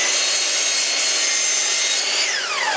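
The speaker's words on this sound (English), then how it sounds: "back now to the chop saw to cut to length" A chop saw trims the edge of a wood brace for a bar table, its loud, steady whine cutting continuously through the wood, with the pitch dropping as the cut finishes.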